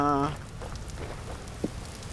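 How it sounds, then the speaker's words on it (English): Rain in a video game falls at the docks as a soft, steady patter under a quiet hiss, faint and continuous, opening with a short tonal note and with a single small tap partway through. "why is it raining at the docks?"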